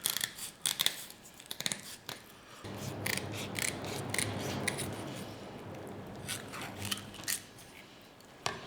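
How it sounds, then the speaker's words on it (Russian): Kitchen scissors snip the fins off small gobies. Sharp, close cutting clicks come in irregular bursts, and a stretch of scraping and rubbing comes from handling the fish. "Ножницами легче всего отрезать плавники."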